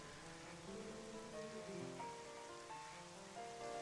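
Rain in The Legend of Zelda: Twilight Princess, a faint, steady patter of rainfall against surfaces mixed with soft tonal game music, with no voices.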